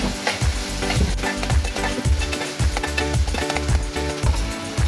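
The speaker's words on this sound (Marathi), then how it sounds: "हा टॅमॅटो पण या कांद्यामध्ये छानपैकी असा फ्राय करून घ्यायचा." Chopped onion and tomato frying in a pan for a dry prawn (jawala) fry, with a loud, steady sizzle broken by repeated rhythmic scrapes of stirring close up.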